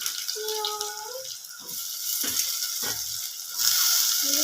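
Tomato goes into a hot frying pan for a Kottayam-style kerachoora curry, giving a steady close sizzle with a few faint clinks and a brief tonal whine near the start.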